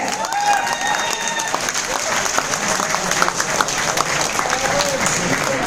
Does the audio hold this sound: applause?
yes